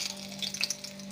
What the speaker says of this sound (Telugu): వేడి వేడి చేపల ఫ్రై